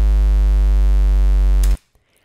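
A Serum synth bass patch with 5% square distortion holds a thick, buzzing sustained low note, loud and up close, then cuts off abruptly into near silence.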